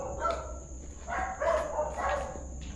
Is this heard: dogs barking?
yes